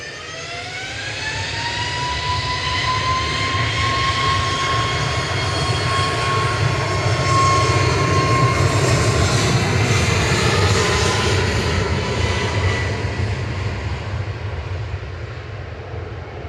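A Ryanair jet airliner departing Manchester Airport, its engines roaring loudly and steadily with a rising whine, then slowly fading as it climbs away.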